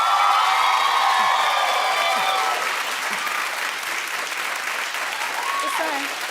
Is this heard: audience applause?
yes